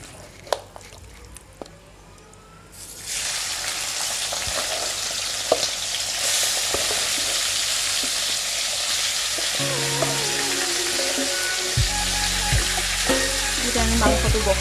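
Duck meat hits a hot pan and sizzles loudly and steadily after a few quiet clinks, the frying hiss filling the scene with occasional stirring scrapes and utensil taps close by, no talking.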